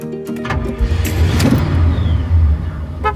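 A car on a road trip, its engine and road noise rising loudly and steadily, with a short mechanical whir at the start and a faint voice barely audible beneath the driving sound.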